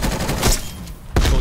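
Rapid gunshots crack in a Call of Duty: Cold War multiplayer match, a dense burst followed by a pause and a sharp new volley, close and loud.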